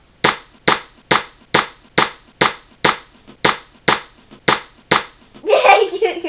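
A toy dart gun fires again and again in a steady rhythm, about ten sharp, loud snaps evenly spaced and close by, followed by a burst of rustling handling noise.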